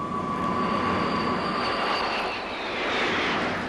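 Military airplanes fly overhead during the Korean War with a steady, loud engine roar that swells and fades slightly, a continuous droning whine with no voices.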